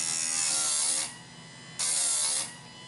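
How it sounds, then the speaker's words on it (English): A Harbor Freight Chicago electric chain saw sharpener grinds against the saw chain's cutter teeth in two loud, close, harsh bursts of about a second each, separated by a quieter stretch where the motor keeps humming with no voices. "Then you just turn on the saw on the switch up here at the top."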